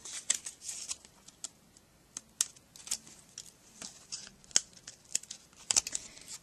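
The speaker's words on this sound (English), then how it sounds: "So we'll go ahead and cut a couple pieces of foam tape." Scissors snip pieces of foam tape in a quiet indoor craft setting, giving about a dozen sharp, close cuts at an irregular pace, each a crisp click with a little rustle between.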